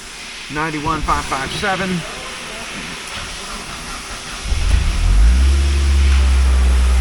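A 1999 Mazda Miata NB with about 91,000 miles cranks and fires up, settling into a steady, loud idle with a low rumble, after someone briefly speaks over hiss at the start.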